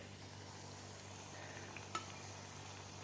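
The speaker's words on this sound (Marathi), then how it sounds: "एका वेळेस आपल्याला एकच अनारसा तळायचा आहे, म्हणजे व्यवस्थित तळला जातो." Anarsa, a rice-flour sweet, fries in hot oil as a low, continuous sizzle with no talk, broken by one brief utensil tick.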